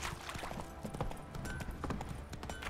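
Hooves of Geralt's horse Roach in The Witcher 3, a brief dense flurry of galloping hoofbeats, close and steady throughout.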